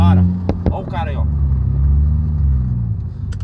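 A turbocharged Volkswagen Jetta's engine revs in a low, loud rumble that swells and holds. Someone speaks briefly over it at the start.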